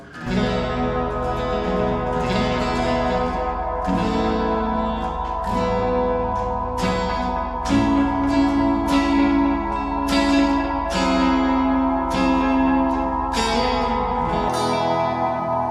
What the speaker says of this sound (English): this setting that gives you this big, cavernous, echoing sound